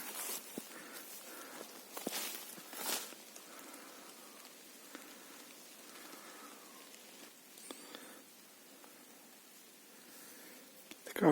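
Quiet footsteps crunching on a mossy forest floor in Baimaky, Khmelnytskyi Oblast, Ukraine, at a slow, irregular pace, with light patter of raindrops around and no talking.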